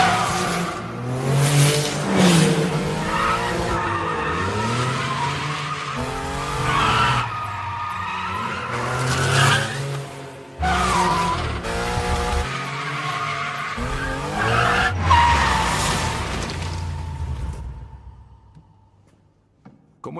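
Car tires skid and squeal loudly while the car drives fast and the engine revs, in a street-racing scene; the screeching comes in repeated bursts over about seventeen seconds before fading out.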